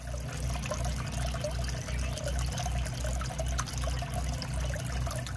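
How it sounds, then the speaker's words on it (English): Water from a garden hose pours steadily into a backyard bird bath, a continuous close splashing fill with a low rumbling flow, unbroken and without speech. "So I topped it off with some water from my garden hose."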